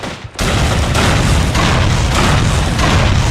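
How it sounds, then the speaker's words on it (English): A loud grenade blast in the World War II shooter Call of Duty 3 bursts in after a short quiet, then a sustained roar of battle noise and rumbling gunfire that keeps going without letup. "Envoie une grenade!"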